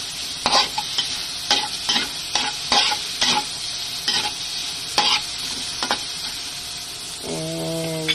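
Jackfruit sautés for ginataang langka, a loud continuous sizzle up close, punctuated by a dozen sharp spatula scrapes and stirs, ending with a brief high tone.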